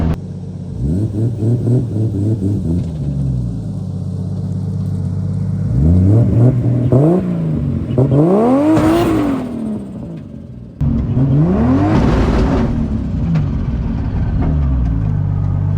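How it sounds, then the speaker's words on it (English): A drift car (S14) revs hard for a burnout, engine note rising and falling in repeated loud surges with a sharp cut near the end, a BMW nearby doing the same. "Down here to do a burnout, but it looks like there's a BMW coming down here to do the same."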